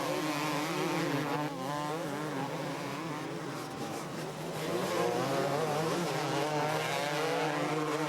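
Several 250cc racing motorcycles, among them a yellow Suzuki, race past: a dense, loud, continuous engine howl with overlapping wavering pitches and no talk.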